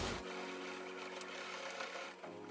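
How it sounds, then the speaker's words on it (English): A sewing machine stitching the side and bottom seams of a cotton thrift store tee being turned into a tote bag, giving a steady, continuous whirring run up close. "I sewed down each side and then along the bottom."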